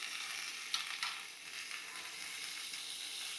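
Tender okra pieces drop into a hot pan and sizzle steadily, a soft bright hiss with a couple of brief crackling bursts near the start, heard close and alone without talk.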